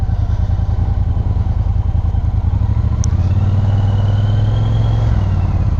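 A 2018 Triumph Bonneville Speedmaster motorcycle drones steadily and loudly while being ridden, its engine tone shifting midway as the pace changes.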